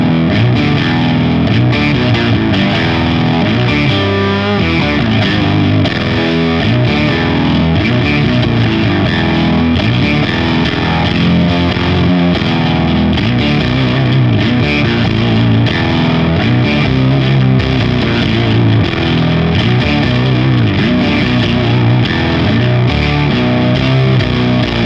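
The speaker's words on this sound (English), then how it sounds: "Let's go with this Boss Octaver style thing. I'm guessing it's an OC2 style model." Electric guitar run through a Line 6 Helix modeled Boss OC2-style octaver at stock settings, a loud, dense, continuous passage of distorted playing with no talking.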